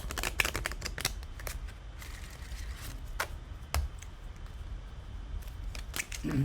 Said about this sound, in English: formulate one question for the Golden Nostradamus cards, and I will pull one card.